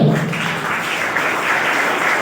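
Applause from a crowd at a school annual results and prize distribution ceremony, a steady dense wash of many hands clapping close by for its whole length.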